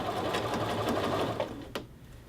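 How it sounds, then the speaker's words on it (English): A sewing machine edge stitching the collar band of a men's shirt runs steadily at close range with a fine rapid whir, then stops abruptly with a small click. "Notice as I'm sewing"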